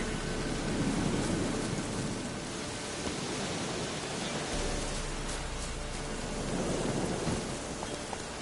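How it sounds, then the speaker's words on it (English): Thunder rumbles through a stormy Witcher 3 landscape over steady rain, with low booming swells near the start and again later, all under a continuous hiss of rainfall with no voices. "Lightning strike."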